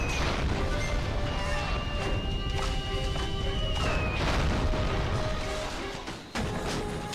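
Rockets launch and explode in the video game Rayman Raving Rabbids, a loud, dense barrage of crashes and booms layered over game music and tones, continuous for several seconds.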